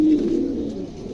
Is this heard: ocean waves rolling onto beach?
no